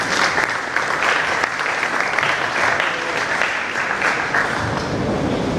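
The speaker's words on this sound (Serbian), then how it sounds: "jedan veliki aplauz za Milana" A meetup audience gives sustained, loud, dense applause that stays even for several seconds, with no talk over it.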